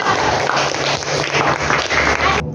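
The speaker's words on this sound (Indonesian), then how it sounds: "tepuk tangan dulu untuk kelompok Google" A classroom full of students applauds the Google group, giving steady dense clapping that runs for a couple of seconds at close range and then stops abruptly.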